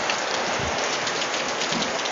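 Steady rain pours down in a close, even hiss of dense drops that holds at a constant level with no voices.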